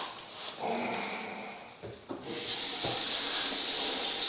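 Water run into a house sewer line for a flow and belly check, a steady close hiss and rush that swells after a few knocks and bumps partway through, then turns brighter and fuller, with no voices.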